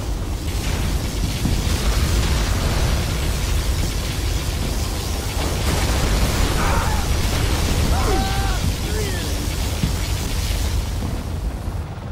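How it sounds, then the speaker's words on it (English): In Command & Conquer Generals Zero Hour, a particle cannon fires and explosions roar as a dense, continuous rumbling blast, loud throughout, with brief chirping unit tones and voice-like sounds partway through. "Particle cannon activated."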